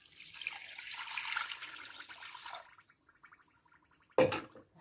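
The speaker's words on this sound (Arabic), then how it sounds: "هلا رح نزل فوقهم لتر المي" A liter of water is poured over cold no-bake dessert ingredients as a soft, steady stream for about two and a half seconds, with a sharper splash or knock near the end.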